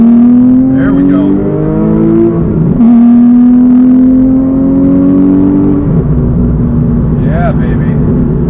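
A Porsche engine with its exhaust valve opened drones loudly and steadily, its pitch rising and settling through throttle changes, with a deep exhaust rumble throughout.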